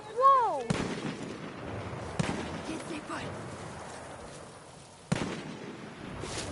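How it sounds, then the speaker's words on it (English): Gunfire in the video game Far Cry New Dawn, sharp loud cracks at intervals over a continuous rumbling din of battle. "Oh, she's getting shot at."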